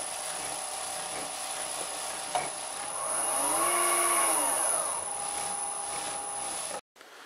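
Vintage lathe running with an old, apparently unused faceplate mounted, giving a steady mechanical whir with a high whine and a pitch that swells and sweeps in the middle before the machine cuts off abruptly near the end.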